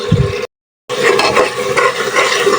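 Spice paste for beef curry sautéing and being stirred in a pan, a steady loud sizzle with scraping stirs that cuts out briefly near the start and then resumes.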